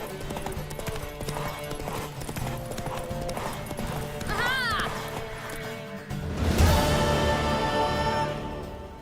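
Rapid galloping hoofbeats of a mare drum steadily under a busy soundtrack in The Witcher 3: Wild Hunt, with a horse whinnying partway through and a loud crash near the end.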